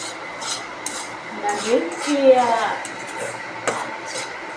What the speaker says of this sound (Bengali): সুজি রান্না করছি সকালে নাস্তার সাথে খাওয়ার জন্য, রুটির সাথে খাবো।